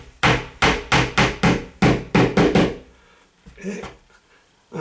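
A hammer drives a nail into a wall to probe for a stud, about ten sharp, evenly spaced strikes in a quick run, then a pause with light handling noise.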